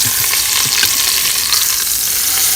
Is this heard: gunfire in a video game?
no